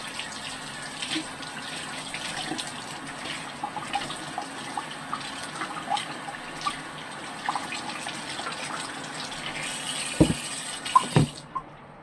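Tap water runs steadily while a water filter is rinsed, a low continuous splash with small clinks and a couple of sharper knocks near the end; no talking.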